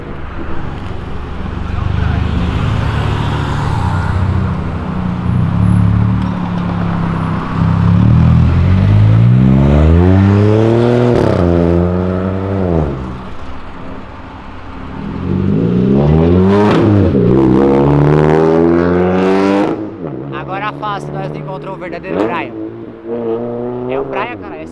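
A Mitsubishi Lancer Evo 9 engine revs hard in repeated rising and falling pulls, loud and close, with a deep droning exhaust tone sweeping up and down. Excited voices talk over the engine throughout.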